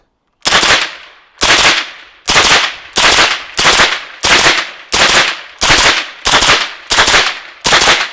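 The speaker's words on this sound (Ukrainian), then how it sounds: "Ви чули, як працює карабін із глушником" Ten sharp, loud gunshots from a suppressed MP5 carbine fire one after another at a steady pace, roughly one per second, each a muffled crack that fades quickly.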